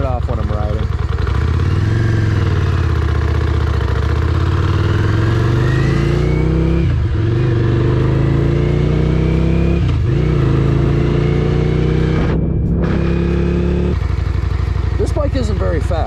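A Yamaha Virago 535 motorcycle engine drones loudly and continuously while riding, rising and falling in pitch through several gear changes and throttle shifts, with a voice speaking over it.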